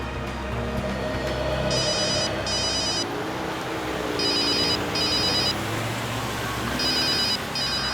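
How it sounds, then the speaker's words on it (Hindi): A telephone bell rings in three pairs of short electronic bursts, with a brief pause between each pair, over low background hum. "सर, आपका फोन लग रहा है।"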